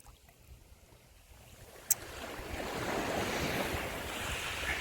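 Waves wash and surge in a natural body of water around a person standing in it, building from soft lapping to a fuller, continuous rush, with wind buffeting the microphone and one brief sharp click.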